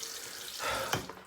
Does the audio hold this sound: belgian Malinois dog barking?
no